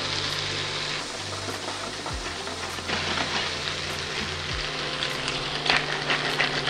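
Potatoes fry in margarine in a pan over medium heat, giving a steady close sizzle and crackle throughout, with a low hum beneath and a few soft scrapes.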